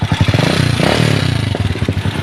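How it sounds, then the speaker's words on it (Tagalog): A neglected Rusi 175 motorcycle engine due for an overhaul runs close by, loud and rough, with a steady, rapid mechanical clatter and knocking over its uneven idle, and no voices. "Narinig nyo naman yung andar na kanya makina ito eh"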